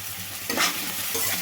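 Onions and green chillies fry lightly with salt in a pan over a medium flame, a brief soft sizzle with a quick scrape of stirring midway.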